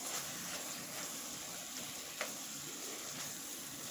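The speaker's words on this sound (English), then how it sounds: "I'm going to stir that in." Seasoning from a packet is stirred into meat filling for chalupas in a pan, a soft, even sizzle with faint frying crackle and one small clink partway through.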